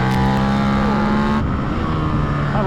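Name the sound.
2024 KTM RC8c motorcycle engine revving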